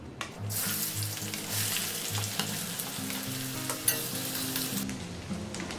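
Chopped onions hiss and sizzle steadily in hot mustard oil with whole spices like cardamom, cinnamon and cloves for a chicken curry, loud and close, with a hum running beneath and occasional clinks of stirring.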